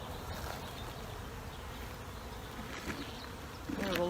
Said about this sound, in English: There's a lot of bees there though